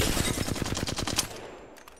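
Rapid automatic hip fire in Apex Legends, a dense, loud burst of evenly spaced shots lasting over a second, then trailing off into a short echoing tail.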